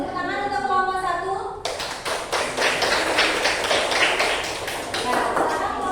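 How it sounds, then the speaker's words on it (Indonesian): Children in an Indonesian classroom break into applause for a group of students, a dense burst of clapping that starts abruptly after a teacher speaks and carries on steadily to the end. "Tepuk tangan untuk kelompok 1."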